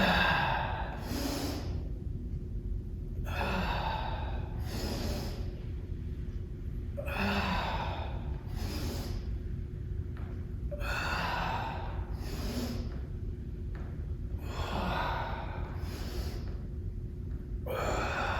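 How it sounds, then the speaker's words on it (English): Someone breathes in and out hard in a steady rhythm during a total-body HIIT bodyweight workout at home, with roughly eight loud, evenly spaced breaths over a faint steady hum. "Breathe in and out."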